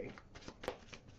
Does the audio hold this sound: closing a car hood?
no